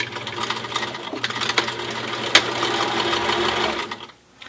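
A sewing machine top stitching the folded edge of a cloth face mask runs in a fast, steady mechanical chatter close by, with a sharp click midway, then stops abruptly near the end.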